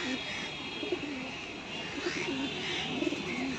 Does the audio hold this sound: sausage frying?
no